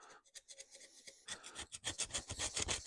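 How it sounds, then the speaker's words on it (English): Close, fine scraping and rasping as a pick works old silicone out of the bolt holes on a Chevy 350 engine for a 1969 Camaro, in irregular strokes that get busier and louder toward the end. "I got to try to pick the silicone out of the bolt holes."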